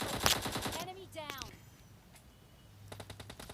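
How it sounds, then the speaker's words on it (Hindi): Bursts of automatic gunfire in the mobile battle game PUBG Mobile, a rapid volley at the start and another toward the end, with someone talking between them. "और भाई ये गोलियाँ कहाँ से पड़ रही थी"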